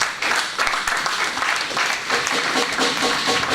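A church congregation at a Sunday service applauds in a steady, dense burst of clapping that continues for a few seconds.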